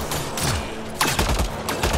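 Gunfire in the video game Mass Effect Andromeda comes as quick rattling bursts of shots layered over a busy game soundscape, loud and close, with a sharper volley midway.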